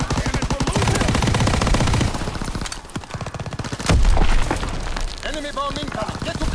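Sustained rapid gunfire rattles through a Call of Duty WWII multiplayer battle with a Thompson submachine gun, dense bursts broken by a deep boom midway and shouted in-game voices over the chaos.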